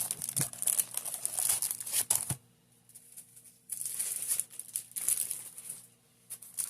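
Paper file folders and decorative cardstock being handled, with crinkly rustling, sliding and flapping in uneven bursts, close and fairly quiet, a short lull in the middle before more shuffling.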